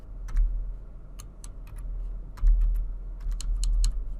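Typing on a computer keyboard with scattered sharp key clicks in small bursts, close and fairly quiet over a low steady hum, with no voices.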